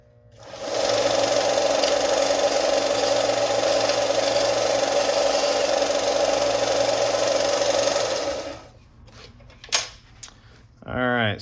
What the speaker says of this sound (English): I'm gonna hit this with my belt sander.